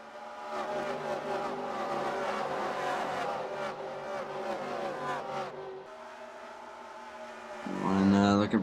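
Race cars in a racing video game roar off at the start of a race at Fort Worth, Texas: a loud, dense layered engine drone with rising revs, shifting pitch near the end as one car screams up close.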